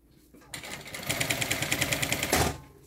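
A sewing machine stitches piping onto a pouch in a rapid, even run of mechanical clatter that starts abruptly and stops after about two seconds, close and clear.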